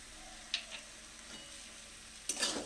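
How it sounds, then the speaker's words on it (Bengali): Small fish with turmeric, chili and Kashmiri chili powder sizzle softly in a pan, spring onion stalks alongside, while a utensil scrapes and stirs in a few brief bursts, close and fairly quiet. "মশলাটা এবার একটু ভালো করে কষে নিতে হবে।"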